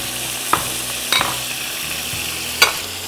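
Chicken frying in a pan for biryani, with a sizzling hiss under three distinct scraping stirs, each one sharp and close.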